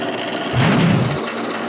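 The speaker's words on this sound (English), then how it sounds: "drill some pilot holes for the screws" A power drill bores a pilot hole for a screw through a plexiglas back panel on a homemade CNC fourth-axis build, one short loud burst of about half a second between quieter workshop noise.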